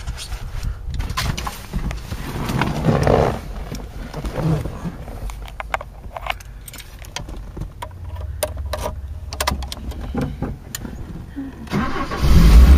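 A Toyota RV engine turns over and settles into a low, rumbling idle, heard close amid clatter and handling noises while someone talks over it.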